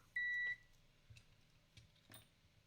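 A multimeter in continuity test mode, checking a vintage Tomy Flipbot toy robot, gives one short, clear beep near the start, followed by a few faint clicks from the probes.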